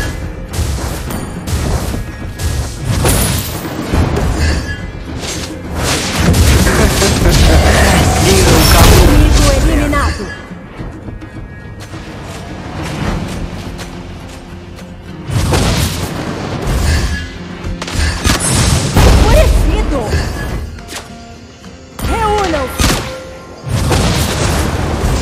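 Dense, loud bursts of booming game explosions and impact effects in a Mobile Legends: Bang Bang match, layered with music and a character voice speaking over the chaotic action throughout.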